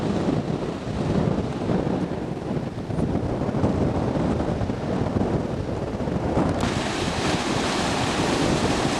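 Ocean waves surging against a black sand beach in Hawaii, a loud continuous roar of surf mixed with heavy wind buffeting the microphone.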